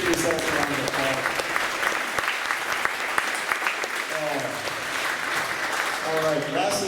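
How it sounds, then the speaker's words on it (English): Sustained, loud audience applause at a high school marching band concert, with voices talking over the dense clapping throughout. "Give yourself a round of applause."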